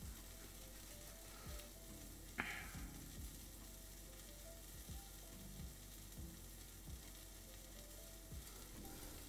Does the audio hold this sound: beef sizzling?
yes